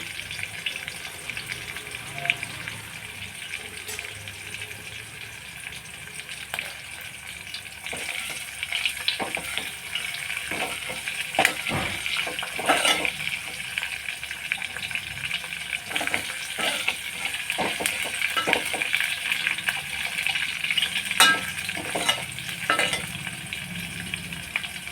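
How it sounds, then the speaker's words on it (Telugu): Curry leaves and dried red chillies crackling in hot oil for a tamarind rasam, a close steady sizzle with bursts of sharp pops and spits that grow busier midway. "ఇప్పుడు కరివేపాకు వేసుకుంటున్నాము. ఎండుమిర్చి వేసుకున్నాము."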